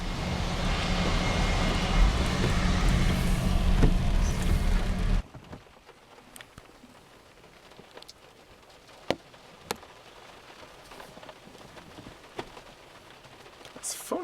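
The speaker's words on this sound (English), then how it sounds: "it's pouring rain still" Heavy rain pouring down for about five seconds, a loud dense broadband wash, then cutting out abruptly to quiet room tone with a few faint clicks and taps.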